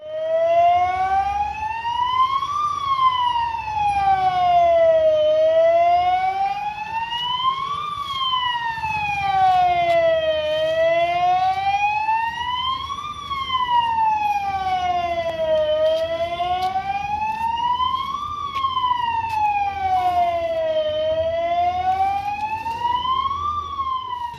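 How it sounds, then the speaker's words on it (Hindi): A fire brigade siren wails loudly and continuously, rising and falling in slow regular cycles, sounded to mark a two-minute silence at a Gandhi death-anniversary tribute in India. "इस मौके पर फायर ब्रिगेड से सायरन बजाकर 2 मिनट का मौन धारण किया"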